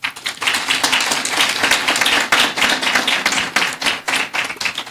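Students in a general management seminar applaud the presenters, a dense, steady crowd clapping that runs continuously at moderate loudness with no voices on top.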